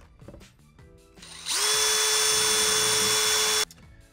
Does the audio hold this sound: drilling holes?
yes